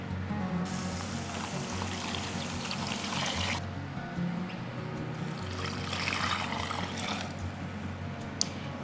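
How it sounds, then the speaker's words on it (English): Water poured from a container into freezer meal containers, a steady soft splashing trickle that runs continuously with brief pauses between fills, close and moderately quiet. "And then last of all, we have 2 cups of water to put in each of these."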